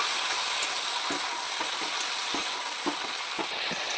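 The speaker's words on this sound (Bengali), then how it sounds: "নুন হলুদ দিয়ে এটাকে আমি সুন্দর করে একটু কষিয়ে নেব" Malabar spinach sautéing in a pan with salt and turmeric, a steady close sizzle with soft stirring scrapes and light clicks of a utensil throughout, no voices.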